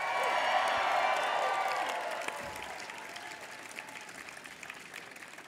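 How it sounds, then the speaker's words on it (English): Incoming university students cheer and applaud at an opening convocation ceremony, a loud burst of clapping and whoops that gradually fades to scattered claps. "I demand that your voice give us a resounding cheer"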